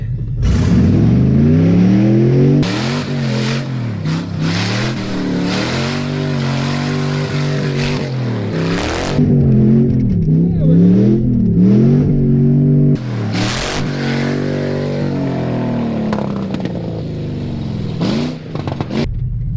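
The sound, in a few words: straight-piped Hemi truck engine revving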